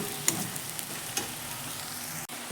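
Sabudana khichdi ingredients frying in a pan, a soft steady sizzle with a couple of light ticks from stirring and one brief knock near the end.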